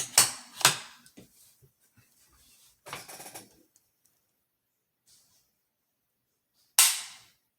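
A Ruger PC Carbine Tactical 9mm is dry-fired, giving a few sharp, close metallic clicks and snaps separated by quiet pauses, with softer handling rattles in between.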